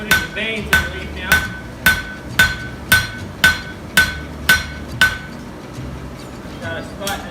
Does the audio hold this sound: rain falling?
no